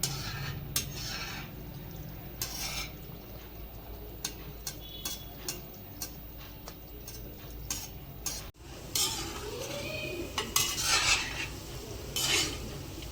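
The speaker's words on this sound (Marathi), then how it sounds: "आणि गुलाबजाम सारखे हलवत राहायचे" Gulab jamun being stirred as they fry in a pan, with soft scraping and clinking of a spoon against the pan repeating steadily under a faint background sizzle, close and moderately quiet.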